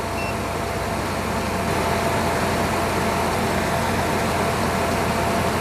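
A car engine idles steadily with a constant, dense low rumble throughout, heard close up with no talk during a battery charging test.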